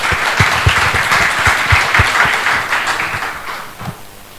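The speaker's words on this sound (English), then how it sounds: "A round of applause, please." A full round of applause from a conference audience at a tourism conclave in Oman: dense, sustained clapping from many hands, loud and close at first, then gradually thinning and fading toward the end.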